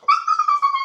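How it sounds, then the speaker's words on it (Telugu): A dog gives a close, clear, high-pitched whimper, a drawn-out tonal whine that wavers for under a second, heard alone. "సో వాళ్ళ డాగ్ ఏంటంటే ఇది."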